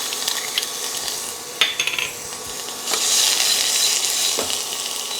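Minced garlic and ginger hit a hot oiled pan and sizzle, with a few clinks of a utensil against the pan before the frying swells into a louder, steady hiss.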